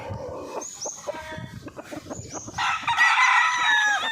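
A Cuban tiger gamefowl stag crows loudly nearby, its drawn-out call rising in the second half over background clucking and other farmyard chatter.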